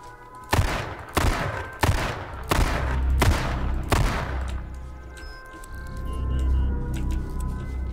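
Magnum revolver fire in the H1Z1 video game, aimed at a Jeep: six sharp, loud shots in a steady rhythm over the first four seconds, then a lower rumble and scattered faint clicks.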